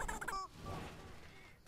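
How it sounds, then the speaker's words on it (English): A chicken in the Barn Finders video game clucks and gobbles in a short burst of fowl calls that trails off into a quieter background, with no talking over it. "A chicken."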